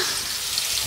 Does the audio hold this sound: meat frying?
yes